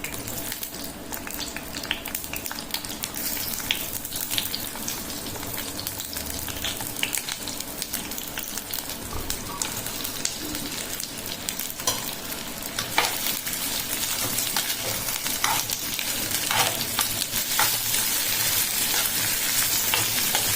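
Two lengthwise-sliced onions sauté in hot oil with cardamom and cloves for coconut kurma. A continuous, bright sizzle runs throughout and grows slightly louder partway through, with occasional crackles and light stirring taps.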